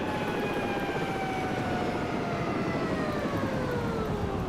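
Helicopter rotors winding down after a gentle landing in a French helicopter flight-simulation game, a steady loud whirring drone whose whine slowly falls in pitch over several seconds, with no voices.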